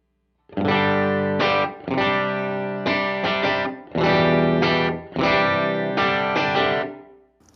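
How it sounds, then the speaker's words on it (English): An electric guitar strums a few chords in short bursts with gaps between, a dry, direct tone with no effects, played alone through a Strymon Iridium amp modeler. "here's what my signal sounds like with nothing on, just going through the Iridium."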